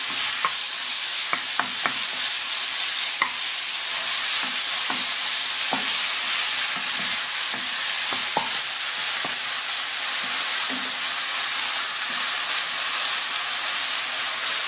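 Mushrooms frying over medium heat in a pan are stirred, giving a steady sizzle with repeated soft scraping and clicking strokes throughout, close and moderately loud, with no talking.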